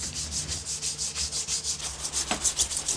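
Rhythmic rubbing strokes of sandpaper on the wooden body of a scratch-built Les Paul Junior style guitar, steady back-and-forth scratching close up with a brief knock near the end.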